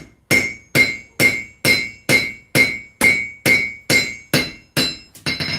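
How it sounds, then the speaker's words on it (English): Hammer blows drawing out the edge of a forged blade, about twelve sharp ringing metallic strikes at a steady, even rhythm, close and loud, each with a bright clinking ring. "I'm hammering out the edge"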